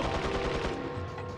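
Rapid rifle fire in Resident Evil 4 on PS2, a dense run of overlapping shots with a steady loud rumble throughout, no voices over it.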